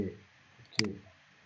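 A single sharp computer mouse click in Revit software, brief and close, standing out against a quiet background after a short bit of speech.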